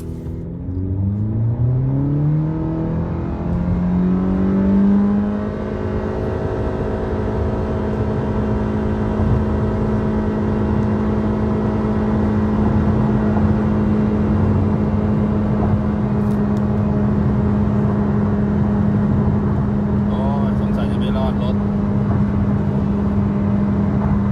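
Tuned car with a 1.8 engine, refurbished stock muffler and AZC rear silencer, revving loudly, its engine note climbing through a gear before settling into a steady, droning pull as it launches from a standstill.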